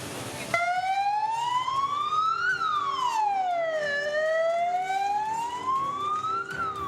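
A fire truck siren wails loud and close as the engines arrive at a 30-meter tower burning down, the tone sweeping slowly up and down in long continuous cycles over steady road noise.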